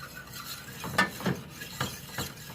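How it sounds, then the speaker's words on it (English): Butter and flour are stirred together into a roux in a pan, giving soft scraping and rubbing strokes with a few sharper utensil taps against the pan, close and fairly quiet with no talk. "you melt your butter, then you add your flour. And then you just keep stirring it until"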